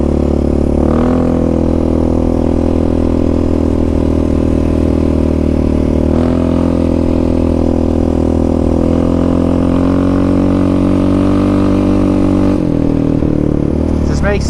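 A Yamaha Raptor 700 ATV with a Dasa exhaust pipe and EHS tune revs loudly and steadily up close, its engine droning through the whole stretch with small rises in pitch and a sharper burst near the end.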